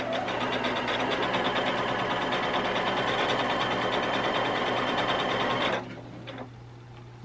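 A Baby Lock Jazz 2 quilting machine runs steadily at close range, stitching a wider, longer stitch with a loud, even mechanical whir, then stops abruptly near the end, leaving a faint hum and a few light clicks.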